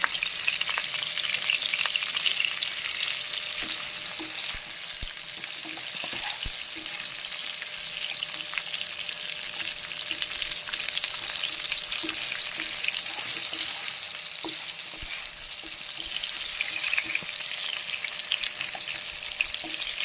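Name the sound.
frying potatoes in a pan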